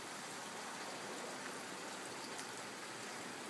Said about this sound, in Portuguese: chove em Calgary